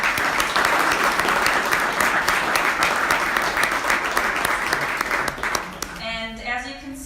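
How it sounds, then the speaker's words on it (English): An audience at a startup showcase class applauds for the presenters, steady dense clapping that fades near the end as a voice begins to speak. "could we have a round of applause really quickly for everybody who presented tonight?"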